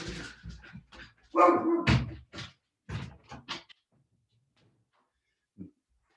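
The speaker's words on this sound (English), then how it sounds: "so I apologize for the barking in the background." A house dog barks at someone at the door. Loud, close barks come in a quick cluster of several bursts, then the room goes mostly quiet and one faint final yelp follows.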